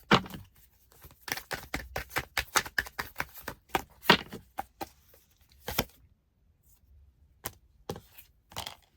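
Tarot cards drawn and handled from a deck, a run of quick sharp papery snaps and taps in irregular bursts, close and dry, with short pauses between groups.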